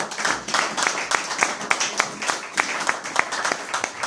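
A church congregation claps together in a steady, even rhythm, many hands striking at once in quick regular beats throughout, fairly close and full-sounding.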